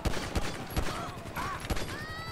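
In the GTA V video game, handgun fire cracks out as a string of sharp, evenly spaced shots over a noisy game background, with a few faint whistling tones between the bangs.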